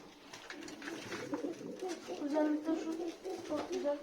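Pigeons coo steadily in a backyard coop, overlapping low throaty calls continuing throughout, with people talking quietly nearby.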